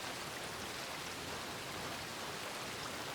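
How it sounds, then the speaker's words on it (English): Steady rain falls without pause, a soft, even hiss that stays faint and constant throughout, with no voices. "let the sound of the rain carry you into a state of pure tranquility"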